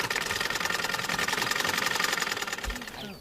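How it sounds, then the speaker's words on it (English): A sewing machine runs fast and steadily, its rapid mechanical chatter continuous and close for about three seconds before slowing near the end. "he then started operating his sewing machine much faster"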